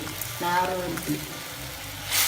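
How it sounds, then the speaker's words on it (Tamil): Onion and tamarind sautéing in a pan for a Nagercoil-style onion pachadi, a short burst of sizzling and frying with a stir, close and moderately loud, then fading to a quieter hiss before flaring again. "அந்த உள்ளியும் இதையும் வதக்கணும், கொதிக்க விடணும்."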